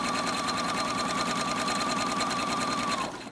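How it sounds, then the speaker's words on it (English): A sewing machine stitching a Cricut Maker dust cover runs in a fast, even mechanical rattle close up, continuous for about three seconds before stopping abruptly. "So what we're going to do is sew down a little bit, then we're going to back stitch, and we're going to sew down."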